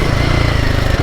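Close, loud engine of a Royal Enfield Himalayan 450 motorcycle ridden off-road, a steady throbbing thump with a rapid even pulse.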